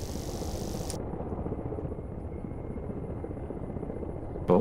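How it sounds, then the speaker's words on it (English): An Mi-24 helicopter approaches in the DCS flight simulator, giving a continuous rumbling rotor and engine drone with a steady buzz. A brief higher whine fades out early on, and there is no speech. "But MI-24's coming in."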